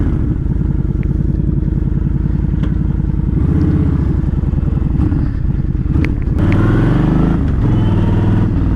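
Yamaha Stryker motorcycle being ridden, its engine a loud, continuous low rumble with a throbbing pulse that rises slightly in the second half as the bike pulls away, with some clatter.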